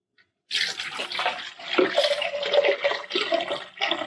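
Tap water runs into a Nespresso machine's water tank during descaling, a steady close splashing and gurgling stream that starts abruptly after a moment of quiet and continues with uneven surges, with no talk.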